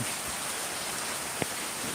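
Steady rain falls in front of a house, a dense even hiss with no voices and one brief sharper tap partway through.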